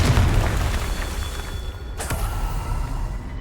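Confringo explosion spell cast in the video game Hogwarts Legacy: one sharp, loud blast bursts out about two-thirds of the way through, following a steady low rumbling game ambience.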